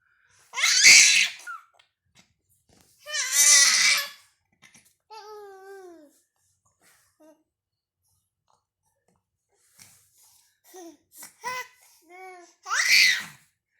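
A baby lets out several loud, high-pitched shrieks separated by pauses, with softer babbling vocalizations between them.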